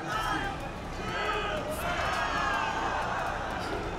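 Tournament crowd at a Tekken 7 pools match cheering in a steady, dense roar that holds for the whole stretch, with a busy mix of voices and shouts, close and loud.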